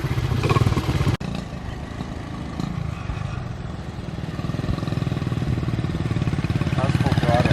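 A Honda pit bike engine runs steadily and fairly loud at close range, a buzzing, slightly rising motorcycle drone with one sharp break near the start, while people talk over it.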